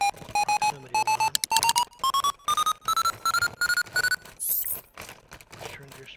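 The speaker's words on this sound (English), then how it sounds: "every time you freaking get a person docking or leaving, it sets off your proximity alarm" A proximity alarm in the space-station game Ostranauts sounds as a rapid, chopped run of electronic beeps that climb steadily in pitch, loud and insistent.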